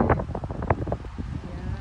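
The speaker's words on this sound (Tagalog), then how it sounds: "napakalakas ng hangin" Strong wind buffets the microphone in heavy, uneven gusts at Two Jack Lake, a loud rushing roar with irregular thumps and no voices.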